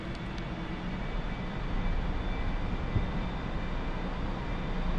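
A simulated A-4E-C jet in DCS World runs at max throttle, a steady, dense broadband engine roar that holds loud and constant throughout with a faint high whine on top and no talking.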